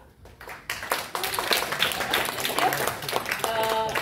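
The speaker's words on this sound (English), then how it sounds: "Please uh, give warm round of applause to Dorijan Dlaka" Clapping rises from an audience at a career networking event as two guests are welcomed to the stage, starting after a brief quiet moment and continuing steadily, with some voices and a tonal sound near the end.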